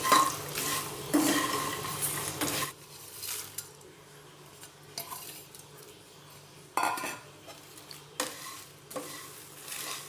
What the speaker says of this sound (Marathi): खोबरं सीड्स मखाने याला चांगलं मिक्स करू